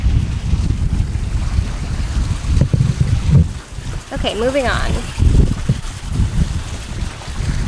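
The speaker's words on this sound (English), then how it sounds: "It is really windy today." Strong wind buffets and roars steadily across the microphone on a Voyage 440 sailboat on the water, with a person speaking briefly under the gusts.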